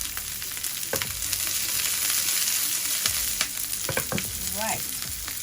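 Chillies sizzle and crackle steadily in hot oil, with occasional scraping stirs and clinks of a utensil against the pan.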